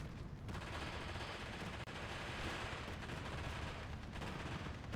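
Gunfire from the strategy game Steel Division 2, as units engage anti-tank troops: a dense, continuous wash of distant shots and battle noise running steadily throughout at low level, with no clear individual reports standing out.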